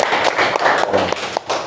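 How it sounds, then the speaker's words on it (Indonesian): Clapping from a classroom of students under a teacher's observation, a brief burst of hand claps with uneven sharp taps over about two seconds, fairly close and moderately loud. "tepuk tangan"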